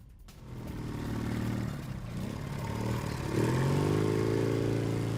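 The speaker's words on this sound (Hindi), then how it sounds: "ये देखिए पाकिस्तानी सेना की बैंड के साथ टीटीपी ने निकाली बाइक परेड" Motorcycles rumbling past in a bike parade, their engines building and revving with layered, growling tones as several bikes come closer and louder.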